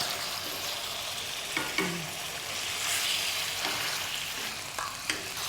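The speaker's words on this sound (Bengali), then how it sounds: "হ্যাঁ, এবার নাড়তে থাকো।" Chicken pieces fry and sizzle in a pan for a chicken pie, with steady close sizzling and a few soft scraping stirs, no voices.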